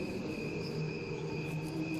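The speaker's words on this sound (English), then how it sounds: "I'm sure you can hear crickets, but the other part of it at the same time is the cricket sound slowed down." Crickets chirping in a continuous high trill, blended with the same cricket sound slowed down into a lower, droning tone; steady, soft and alone throughout.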